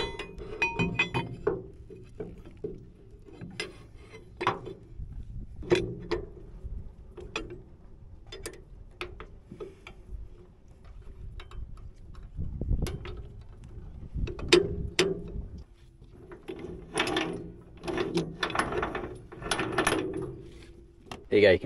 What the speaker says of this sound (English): So let's bolt this on